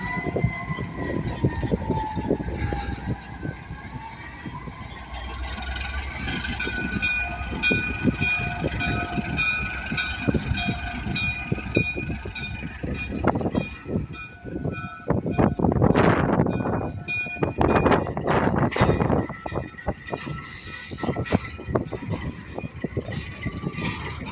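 Depew Lancaster & Western freight train pulling its string of cars, with a long rumble of wheels and clanking couplers, metallic squeals and horn-like tones, and a fire engine siren wailing in the distance over the train noise.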